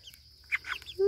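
Chickens on a farm give a few short clucking calls, soft at first and then two louder bursts, with a brief sharp note at the end and quiet between.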